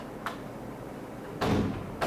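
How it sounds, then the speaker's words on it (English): A door swings shut at a barbershop, giving a soft thump at first and then a louder broadband bang near the end, followed by a second knock-like hit, all fairly close with no talking. "Let the door close."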